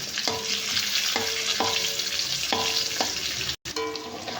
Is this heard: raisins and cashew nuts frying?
yes